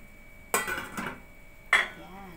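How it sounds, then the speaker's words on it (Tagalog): Two sharp metallic clanks a second apart, a lid set onto a pot of simmering molo soup, with a quiet background between them. "Takpan na natin."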